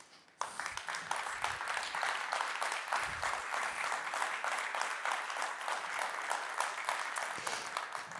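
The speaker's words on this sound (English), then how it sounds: "You got a big round of applause here from the room" Applause rises from the room at an international military medicine conference, a sustained round of clapping from a modest audience, fairly even and moderately loud after a brief quiet start.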